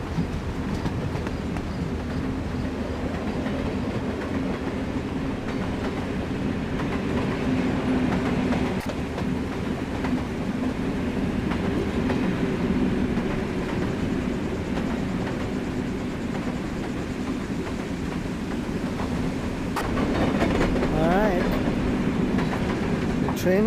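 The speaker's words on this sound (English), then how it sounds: "I think the train is coming, so I want to see the train in the recording." A train rolling past on railway tracks beside a pitch and putt golf course in Austin, Texas, a sustained heavy rumble with rattling wheels over a long stretch, fairly close and loud, with brief metallic squeals near the end.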